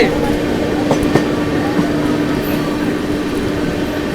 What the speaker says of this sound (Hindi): अमृत भारत पिकअप ले रही, हल्का हल्का ओवरटेक मार रही कानपुर शताब्दी को।